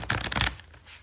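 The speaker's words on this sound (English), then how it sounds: "They're a little hard to shuffle." A brief, dense burst of oracle card shuffling, fluttering papery riffle up close from a stiff deck, then it trails off into quiet.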